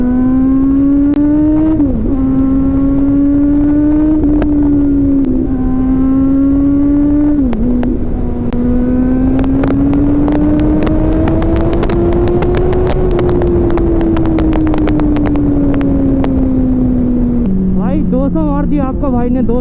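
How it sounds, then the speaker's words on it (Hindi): Kawasaki Z900 with an Arrow full-system exhaust pulling hard on a highway, the engine note climbing through several gear changes with sharp crackles, loud and sustained with constant wind rush. "आपका भाई एकदम एरो का फुल सिस्टम एग्जॉस्ट है गाइस। और इसका साउंड सुन के जो आपको मज़ा आ रहा है ना"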